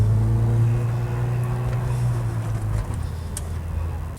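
A Ford Fiesta ST180 pulling away, its engine a steady low drone heard from inside the cabin that shifts and eases off partway through, with no talk over it.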